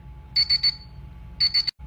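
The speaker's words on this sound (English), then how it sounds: "It also does a sound when the alarm goes off, and it's nice and loud for everyone to hear." A classroom digital timer's alarm goes off loud and close, sounding two bursts of three quick, high-pitched beeps separated by a short pause.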